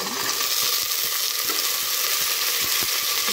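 Vegetables sautéing in a pan give a continuous, close sizzle with faint scraping ticks of stirring throughout.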